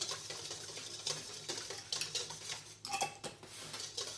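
Red velvet cake batter mixed in a bowl, a soft repeated scraping and clinking of utensil against the bowl in irregular strokes, close but fairly quiet.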